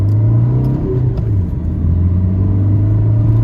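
A modified Maruti Baleno diesel car drives after decarbonizing, its engine a steady low rumble with smooth pitch changes as it runs and shifts, heard close from inside, no voices.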